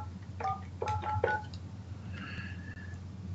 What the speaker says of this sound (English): we would connect to networks remotely through a modem connected to our telephone line, and it sounded something like this